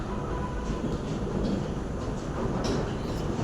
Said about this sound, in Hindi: ट्रेलर चल रहा है, ट्रेलर